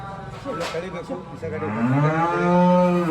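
A dairy cow lets out a long, rising moo that swells louder toward the end, after some faint background murmuring.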